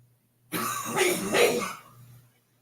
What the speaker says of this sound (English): We have this horrible cough we've been fighting.